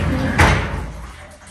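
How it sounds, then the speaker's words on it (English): A hotel bathroom sliding door rolls and bumps to a stop with one thud, close and loud, over roomy background noise. "I'm guessing it's a slide door."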